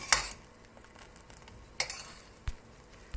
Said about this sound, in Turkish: güzelce karıştırıyorum